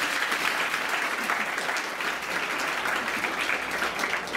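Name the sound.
audience applause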